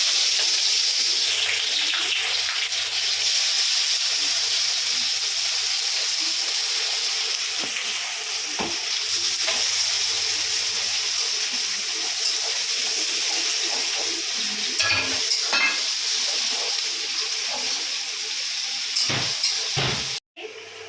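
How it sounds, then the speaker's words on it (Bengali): Chopped onions sizzle in hot oil in a home kitchen while chicken biryani is being made, a steady loud hiss that carries on throughout, with a few brief clatters near the end. "এবার এর মধ্যে পেঁয়াজ একটু দিয়ে দিই।"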